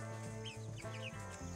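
Hens, among them Asian blacks, cluck in short bursts inside a coop over a constant low mechanical hum, close and moderately loud with no talking.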